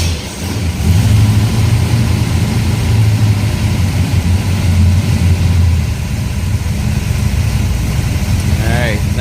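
Carbureted engine on a DCI Motorsports car fires up and settles into a loud, steady idle, a close, continuous low engine drone with a voice heard briefly over it.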